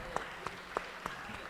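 Short, sparse applause from a small audience at a Spanish-language novel presentation and discussion, a few separate claps standing out against a quiet room.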